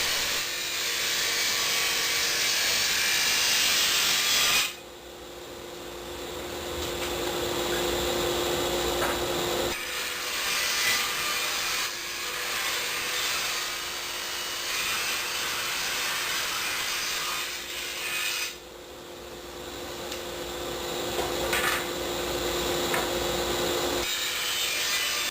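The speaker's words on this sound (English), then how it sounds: "I'm ripping them on the table saw." A table saw rips a 2x4 into thin slats, giving a loud, sustained whining cut with short drops in level between passes.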